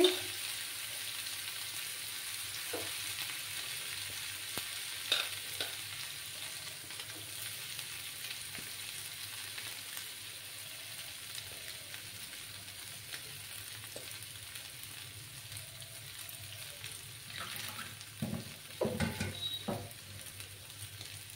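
Soybean paste fries in a pan with salt while being stirred, a steady soft sizzle running throughout with occasional scraping knocks and clatters, louder bursts of stirring near the end.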